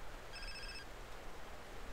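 A phone rings for an incoming call in GTA San Andreas, one short, faint electronic trill lasting about half a second over a quiet background hiss.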